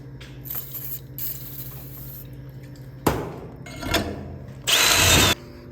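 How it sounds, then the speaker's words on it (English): A step drill bit boring into metal on a 1964 Datsun 320 truck build, loud grinding bursts that start and stop in short runs separated by quieter gaps, heard up close. "drilled it out a little bit more than what I could do with that"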